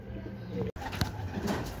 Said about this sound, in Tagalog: isa na lang inaabangan nating ibon. Yung Black Velvet.